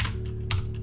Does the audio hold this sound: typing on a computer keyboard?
yes